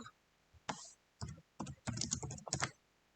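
Bursts of clicky keystrokes on a computer keyboard while code for an async JavaScript fetch function is entered, short clusters separated by brief pauses, close and fairly quiet.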